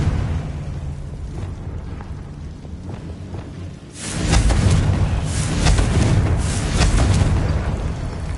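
A Confringo spell blast in Hogwarts Legacy: a quieter stretch gives way to a sudden loud, booming explosion that rumbles on for several seconds.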